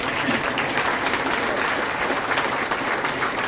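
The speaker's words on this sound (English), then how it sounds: "That deserves a round of applause." Breakfast audience applauding at a conference event with the Detroit mayor, a loud dense wash of clapping hands held steady throughout, no voices standing out.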